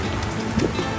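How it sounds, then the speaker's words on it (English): Pouring rain patters steadily on surfaces in a short outdoor stretch, a dense, even wash of sound with no talk over it. "It's pouring rain."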